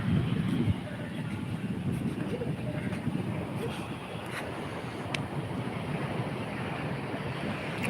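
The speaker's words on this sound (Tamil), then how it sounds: "கடல் காற்று" A sea breeze blows steadily at a beach as waves wash in, a continuous broad rush of wind buffeting the microphone with surf beneath it.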